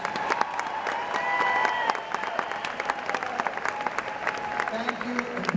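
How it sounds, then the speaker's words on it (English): Steady applause from a graduation ceremony crowd honoring students with honors, a dense clatter of many hands filling the hall and swelling briefly before tapering into lighter scattered clapping. "One more round of applause for all these students graduating with honors."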